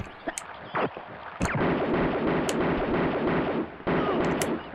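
Automatic pistols in Tomb Raider 2 firing at an enemy: a few sharp early shots, then sustained rapid firing, with a short break before the bursts resume.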